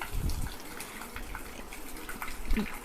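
Sacred water flows steadily at a temple bathing area below Simhachalam hill, a continuous close splashing and gurgling with no talk over it.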